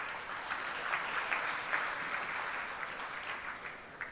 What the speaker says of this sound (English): So again, a round of applause for all of you